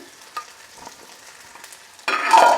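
Tomatoes frying with potatoes, eggplant and drumstick stalks in a pan, quiet light stirring scrapes before a loud sizzle bursts in near the end, close and alone.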